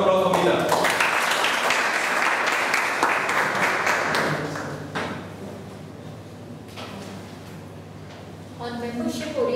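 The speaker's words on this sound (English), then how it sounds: "Round of applause for Meeta." An audience at a meeting claps for the next speaker, a strong burst of applause that fades after about four seconds, followed by quieter room noise and a voice speaking.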